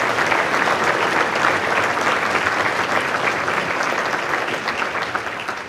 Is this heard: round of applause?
yes